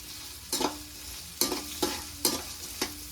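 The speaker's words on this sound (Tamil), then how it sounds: "பச்சை மிளகா வதங்கி நல்லா வாசம் வந்துருச்சு. நான் வெங்காயம் சேர்த்துக்கிறேன்." Onions and green chillies frying in a pan, a soft steady sizzle broken by about six close, sharp scraping strokes of a spoon at uneven intervals, no talking.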